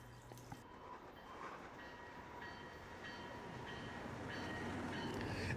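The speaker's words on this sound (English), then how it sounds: "the train doesn't seem to be going all that fast" A train rumbles past at moderate speed on the rails at Carlsbad Village, a dense continuous roar growing slightly louder, with faint metallic ringing tones over it.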